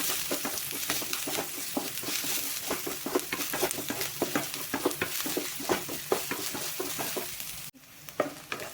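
Onions and green chillies sauté in a pan, a constant sizzle broken by quick, rhythmic scraping strokes of a spoon that carry on steadily throughout.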